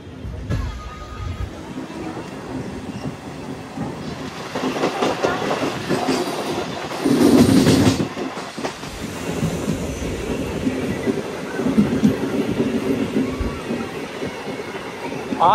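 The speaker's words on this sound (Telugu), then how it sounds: "మన ట్రైన్ అయితే సామర్లకోట జంక్షన్ నుండి స్టార్ట్ అయిందనమాట" A MEMU express train on the Kakinada Port to Visakhapatnam run, heard from inside as continuous rumble with clattering wheels, a brief louder surge and squeal midway, and occasional voices in the background.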